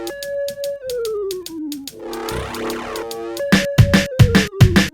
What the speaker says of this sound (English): This is the sound of the tuning tone on the Freebase analog synth.